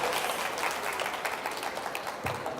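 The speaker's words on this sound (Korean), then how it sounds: "우리 김수현 씨 보내드리면서 박수 치도록 하겠습니다." Audience applause at a campus busking event, a dense, steady wash of many hands clapping together, sustained and fairly loud throughout with no voices over it.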